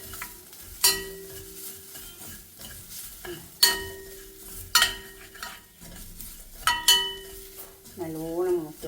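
Whole coriander seeds and black peppercorns roasting in a hot kadai for tomato rasam, stirred with a ladle in four or five sharp scraping strokes, with a soft dry sizzle between them.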